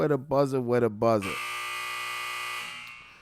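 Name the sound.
buzzer sound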